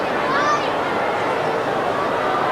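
Crowd at the MCG during a 1996 AFL match between Melbourne and Carlton, a steady broad roar of about 30,000 spectators heard at a distance beneath a commentator's voice.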